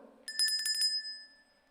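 A chairperson rings a small bell at a council committee meeting to warn a presenter about speaking time, sounding a quick trill of bright strikes followed by a clear ringing tone that fades away.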